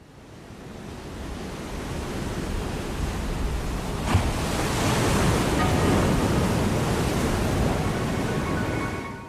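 Ocean waves crash on a shore, opening an album: a steady, full wash of surf that swells slowly, with a brief sharp splash near the middle and no voices.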